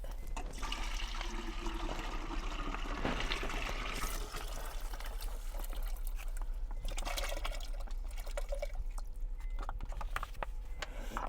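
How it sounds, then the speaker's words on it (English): Water poured from a bag into a campervan's water tank, a steady splashing, gurgling flow running continuously and close by, with no talking. "I noticed my water was getting a little low, so that means I gotta put some water in there."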